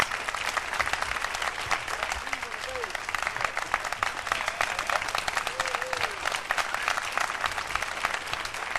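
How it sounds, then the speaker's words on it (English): A jazz club audience applauds bassist Nat Reeves, steady dense clapping throughout, with faint voices and a few whoops rising through it. "How about a warm round of applause for Mr. Nat Reeves on the bass?"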